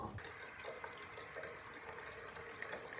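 A tap runs steadily into a sink as hair dye is rinsed out at home, a close continuous rushing stream with no voices.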